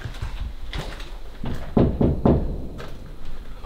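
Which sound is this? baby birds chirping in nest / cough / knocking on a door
knocking on a door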